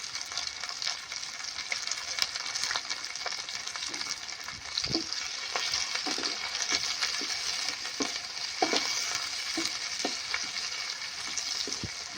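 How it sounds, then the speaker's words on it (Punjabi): Onions and green chillies fry in hot oil with cumin for a moong dal khichdi tempering, a continuous close sizzle broken by scraping stirs of a spoon against the pan. "ਹੁਣ ਆਪਾਂ ਪਿਆਜ਼ਾਂ ਨੂੰ ਪਾ ਲੈਂਦੇ ਆ ਇਹ ਨਾਲ ਹੀ ਪਾ ਲਾਂਗੇ ਆਪਾਂ ਹਰੀਆਂ ਮਿਰਚਾਂ"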